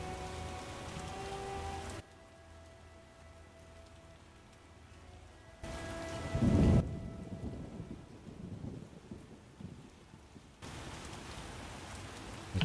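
Steady rain pattering in The Witcher video game, with a deep rumble of thunder swelling midway before the downpour continues, the soundscape shifting abruptly between quieter and fuller stretches, no voices.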